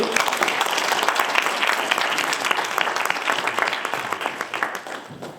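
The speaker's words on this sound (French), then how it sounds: "Sous vos applaudissements, s'il vous plaît." Loud, dense audience applause fills the hall at the opening debate of the 2025 Lille debate cup in France, a sustained roar of many clapping hands that thins and tapers off near the end.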